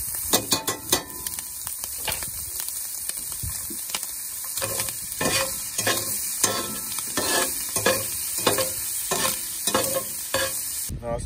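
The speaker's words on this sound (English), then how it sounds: "Just got our diced up bacon. Just get that in there. Just gonna cook the bacon like normal." Diced bacon frying in a pan for a big cheeseburger damper, a steady close sizzle broken by repeated scraping and stirring strokes throughout, with no talk.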